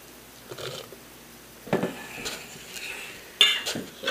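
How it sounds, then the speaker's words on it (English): Apples being stirred into a dry apple cake batter in a bowl, giving soft scraping and clinking of utensil against the dish in a few scattered bursts, with one sharper clink near the end. "I'm just going to add 2 cups of apples at a time, and then we'll mix them up thoroughly."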